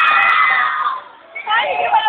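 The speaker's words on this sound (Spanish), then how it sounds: "Aplausos para la número 4." An audience at a live Karol Dance show cheers and screams for contestant number 4: a loud, sustained crowd roar with shrill voices that dips briefly, then swells again.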